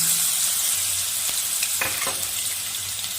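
Crushed garlic hitting hot mustard oil in a pan gives a steady, loud, close sizzle across the whole stretch, with a couple of brief scraping stirs partway through.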